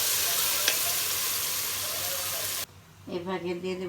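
Onions and tomatoes fry in a pan for chicken curry, a loud steady sizzle close by that cuts off sharply partway through, after which someone speaks briefly.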